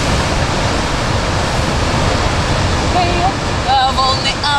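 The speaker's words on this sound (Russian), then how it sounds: "Волны бушуют." Rough sea waves surge and crash along the rocky shore at Simeiz in Crimea, a steady loud wash of surf filling the whole stretch, with faint voices or whistling tones rising briefly near the end.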